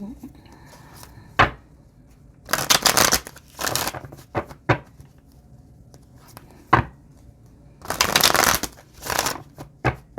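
Tarot cards are shuffled and handled close by in several separate bursts of crisp riffling and slapping, with quieter pauses between them.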